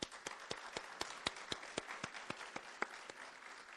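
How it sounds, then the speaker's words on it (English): Graduation celebration audience clapping: a quiet, sparse round of applause with distinct individual hand claps standing out in an irregular rhythm, heard from some distance. "Sir, applaud for yourself."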